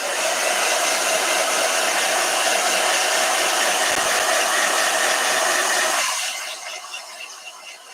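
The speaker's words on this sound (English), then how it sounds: "Blow dryer." Blow dryer aimed at a painting in a sketchbook, a loud steady whooshing roar running for about six seconds before cutting off and winding down.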